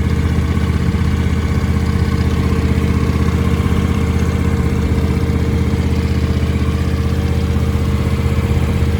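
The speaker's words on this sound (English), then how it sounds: "But this really is a quiet running engine." The engine of a 2021 John Deere X350 riding mower idles steadily and evenly, a constant close mechanical drone with no change in pace and no talking.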